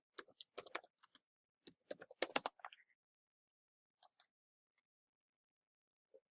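Typing on a computer keyboard, with close, crisp key clicks in rapid bursts over the first few seconds, then a couple of isolated taps before quiet, with no talk.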